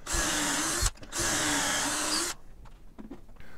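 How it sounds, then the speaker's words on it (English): A handheld power drill whines steadily while boring pocket holes into wooden rails for a rustic farmhouse sofa table, two long bursts split by a short pause, then quieter handling clatter. "now we're gonna put our pocket holes in the running rails"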